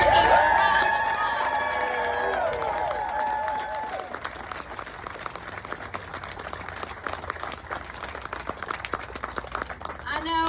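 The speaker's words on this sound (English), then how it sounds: "give me one more round of applause for Jamie's crew has been working around the" Audience applause at a community meeting on Hurricane Helene updates, a long steady round of clapping from a seated crowd following a few cheers, moderately loud and sustained.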